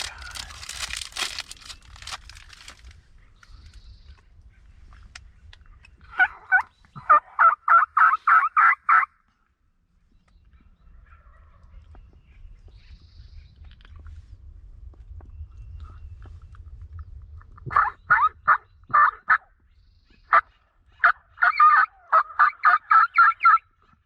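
A wild turkey gobbles in bursts of rapid rattling calls, several times over, at close range, with quiet gaps between them and a low rumbling background during the pauses.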